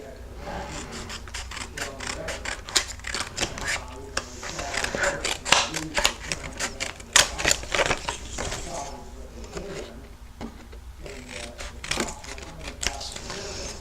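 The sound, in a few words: trimming extra paper off a card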